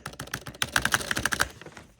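Rapid soft keystrokes on a quiet, sensitive computer keyboard, a close, steady run of light clicks that bunches into a quicker burst midway and then thins out.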